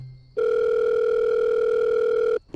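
A loud, steady phone ringback tone plays continuously for about two seconds in the Roblox game Buy Your Friend Back Tycoon, a call ringing out unanswered, with brief quieter moments before and after.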